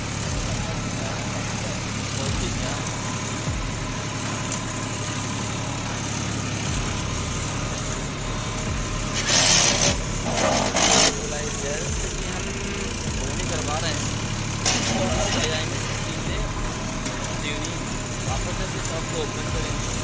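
A steady low engine drone runs throughout, like a tractor idling nearby, with people talking over it and a few brief louder rattles.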